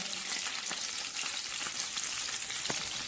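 Fish sizzles and crackles steadily in mustard oil over low heat, a continuous close frying hiss dotted with small pops and spits, with no voices.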